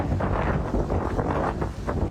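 Strong storm wind gusts buffet the microphone in Tainan, a steady loud roar with surging blasts, no voices heard.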